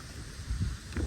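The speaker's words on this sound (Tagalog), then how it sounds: "Mahangin ngayon, mahangin, pero maganda yung weather" Steady wind at Smithville Lake blusters against the microphone in a low, rumbling rush with brief stronger gusts.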